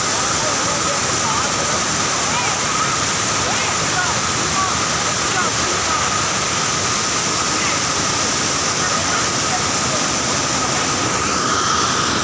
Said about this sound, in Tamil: ஃபுல் ஃபோர்ஸாக வருது தண்ணி.